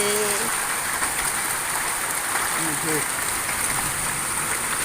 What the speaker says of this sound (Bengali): এই যে এখন অন্ধকার হয়ে গেছে, শিলা বৃষ্টি পড়তেছে।